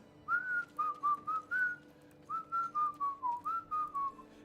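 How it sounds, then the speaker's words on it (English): A person whistles a bright, bouncy tune while playing Diablo, in two lively phrases of short, evenly paced notes separated by a brief pause, clear and close with no talking. "It's pretty weird to whistle Disney while playing Diablo."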